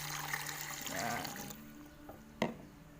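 Water poured into a cheap pressure cooker for sterilising mushroom spawn, a soft steady splashing stream for about a second and a half that tapers off, then a sharp clink near the end.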